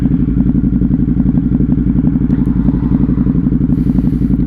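A Ducati Hypermotard 950 motorcycle pulls away in sport riding mode, its twin-cylinder engine thumping in a loud, close, steady pulsing rhythm throughout, with a faint clatter near the end.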